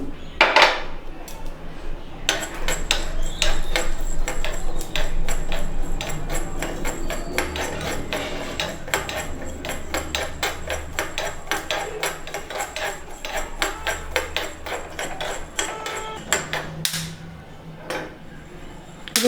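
Black pepper dry-roasting in a pan while making puliyogare powder: a steady patter of small, sharp pops and crackles, with faint metallic clinks of the pan throughout and the popping thinning near the end.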